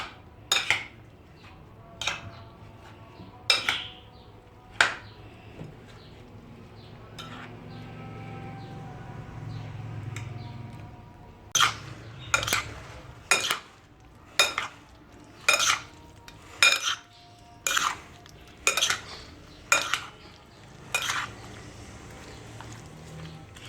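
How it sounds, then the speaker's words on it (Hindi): A spoon stirs creamy fruit chaat in a bowl, making a steady run of sharp clinks and scrapes against the bowl, sparse at first and then quick and regular, close and fairly loud with a low background hum. "अब हमें इसको मिक्स कर लेना है।"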